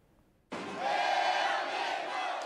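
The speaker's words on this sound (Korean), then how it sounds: "대구 삼성 라이온즈 파크는 만 명 넘게 모인 시민들의 응원 열기로 경기 전부터 후끈 달아올랐습니다." A stadium crowd of more than ten thousand people at Daegu Samsung Lions Park cheers for a football match on a big screen. The roar bursts in suddenly and stays loud and steady, with no talk over it.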